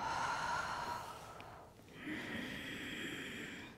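A soft, steady breath is exhaled during a chair yoga session, followed by a quiet pause and another gentle airy breath, close and faint.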